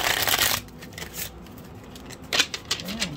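Tarot cards being shuffled by hand, a quick riffling burst at the start, then a pause and a second flurry of soft flicks and taps, close and fairly quiet.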